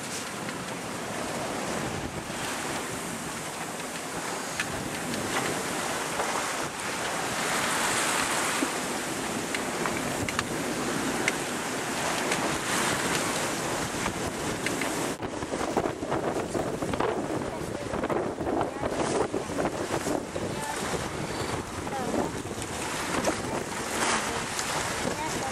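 Wind blows at about 20 knots on a sailboat crossing the open sea from Nouméa to Santo, with waves rushing past the hull. A steady, loud roar of wind and water fills the whole stretch with no letup.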